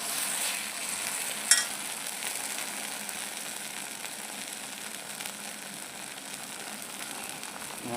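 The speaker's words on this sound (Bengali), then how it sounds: "ভালো করে সরষাটা যতক্ষণ না তেল ছাড়ে কষি কষি ভাজতে হবে।" Mustard paste frying in oil in a pan, a steady, even sizzle with a soft crackling hiss that continues throughout, with one brief sharp clink near the start and no talk.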